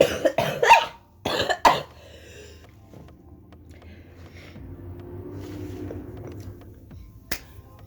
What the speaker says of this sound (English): That's my COVID cough.